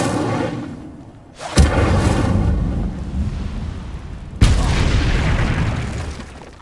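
In the video game Hogwarts Legacy, the Incendio fire spell goes off with two sharp, booming blasts, each followed by a loud rushing, rumbling roar of flame.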